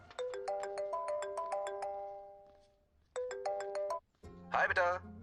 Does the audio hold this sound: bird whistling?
no